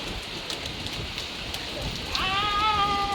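Steady patter of rain falling on surfaces, with a few bleats from a sheep or goat near the end.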